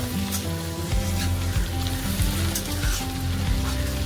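Okra (bhindi) is stir-fried in a pan with a spatula, giving a loud continuous sizzle broken by repeated scraping strokes against the pan, with no one talking.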